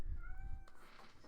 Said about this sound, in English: she's going to continue to meow and cry until I go play with her